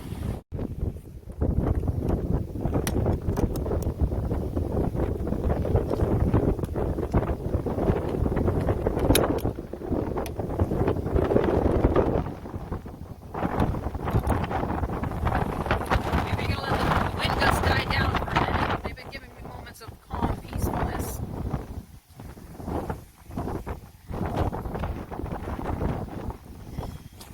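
Steady wind buffets the microphone with a constant rumbling roar, broken by occasional bumps and brief quieter gaps, with a voice faintly present.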